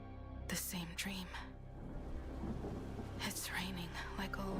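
Rain falls in a steady hiss with low thunder rumbling beneath it in the video game Honkai Star Rail, while soft spoken voices come and go over the storm.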